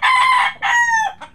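A Gilmore McLean gamecock broodstag rooster crows once, close and loud, a strained two-part call that breaks off into a short clipped end.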